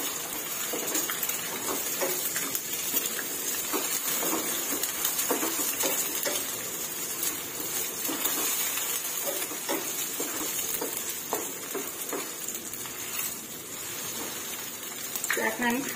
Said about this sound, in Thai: แล้วก็ลวนไข่ให้สุกค่ะ